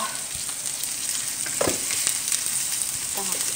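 Vegetable galettes fry in a low-sided pan with a steady, bright sizzling hiss, broken by a few soft clinks and scrapes of a utensil close by, with no talking.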